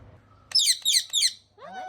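A pet parrot lets out three quick, loud, harsh squawks in a row close by, followed by a softer warbling call, with a faint low hum before the calls.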